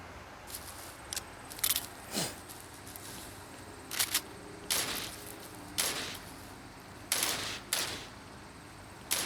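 Gunfire from the zombie shooter game Into the Dead 2 comes as sharp single shots and short bursts spaced a second or so apart, with a low game ambience underneath and no speech.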